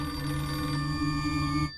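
A telephone bell rings steadily in a Battlefield 6 game scene, a sustained metallic trill with bright, even tones held for nearly two seconds before cutting off abruptly.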